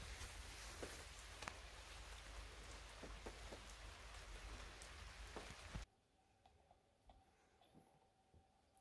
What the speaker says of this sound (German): die Welpen erleben jetzt hier gerade zum ersten Mal Regen und nasses Gras.